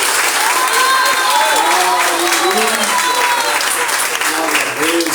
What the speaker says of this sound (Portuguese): As palmas louvam ao nome santo de Jesus.